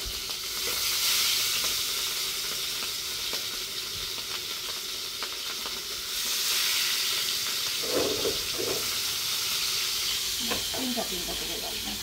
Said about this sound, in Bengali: তো ইলিশ মাছ ভাজার জন্য ফ্রাই প্যানে তেল দিয়ে দিচ্ছি